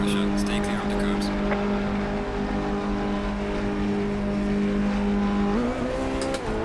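A race car engine in the video game Assetto Corsa Competizione, a steady loud drone that rises in pitch as the car pulls away near the end, with a voice talking over it.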